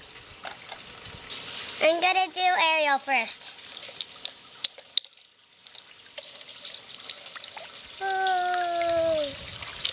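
Water trickles from the waterfalls of a Disney Floating Princess Pool Time play set, a soft, steady dribble running under a child's chatty, sing-song talking that rises over it twice.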